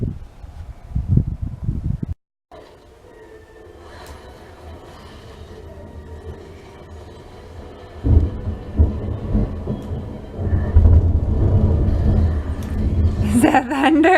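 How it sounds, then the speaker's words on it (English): Rumbling thunder from an outdoor thunderstorm, a low, heavy roll building through the second half and growing loud, with a child's and an adult's voices talking over it. "Is that thunder? Is it loud?"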